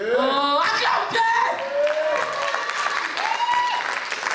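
A church congregation claps in a steady wash of applause, with voices calling and singing over it throughout.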